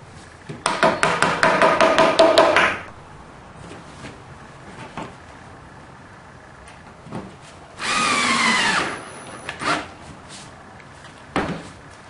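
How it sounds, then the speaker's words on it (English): A power drill drives screws into a wooden keyboard stand: a loud ratcheting burst of about two seconds, then quiet handling knocks, then a second steady whirring run of about a second, all close by. "I'm going to both glue it in and also screw it in from three sides because I want this to be really sturdy."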